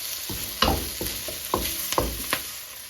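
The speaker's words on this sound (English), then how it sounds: "We continue to stir fry." Bell peppers stir-fried in hot oil, with a soft steady sizzle broken by several sharp scraping stirs of the spatula at uneven intervals, close and clear with no talking.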